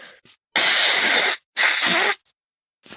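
A person forcefully blows their nose after a sneeze: two long, loud, breathy blasts, one after the other, with short quiet gaps between them. No one speaks.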